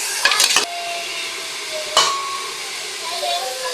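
Onion frying in a pan gives a steady, close sizzle, with a few sharp stirring and utensil clatters near the start and one more partway through.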